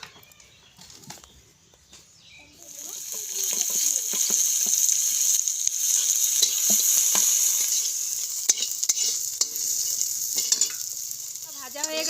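Oil hisses in a wok while something fries for an aloo paratha filling, a quiet start with a few clinks swelling into a steady close sizzle with scattered utensil ticks and scrapes.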